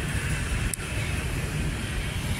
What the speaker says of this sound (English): the noise you can hear in the background is the road